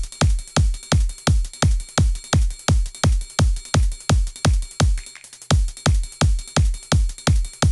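Electronic percussion loop built from kicks, snaps and snare, punching out a steady, even rhythm of loud, closely spaced hits with a brief break near the end, with no voice over it.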